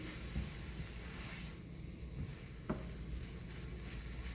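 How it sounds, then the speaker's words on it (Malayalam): Sweet potato ada filling with cardamom frying in a pan, a steady soft sizzle broken by a few scraping stirs of a spoon, close and alone without voices. "എല്ലാം കൂടി ഒന്ന് സെറ്റാക്കി എടുക്കണം നല്ലതുപോലെ ഫ്രൈ ആക്കി എടുക്കാം"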